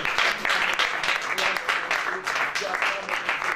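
A church congregation at worship breaks into dense, sustained applause, many hands clapping together loudly and continuously with voices mixed in throughout.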